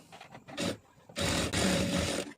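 A sewing machine stitches a fold in a blouse lining in two loud, close bursts of whirring, a short one and then a longer run, with soft handling sounds between them.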